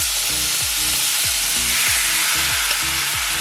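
Beef browning in a pan over medium-high heat for a Jamaican-style pepper steak, with a loud steady sizzle and rhythmic scraping stirs about every half second, close up and with no talk.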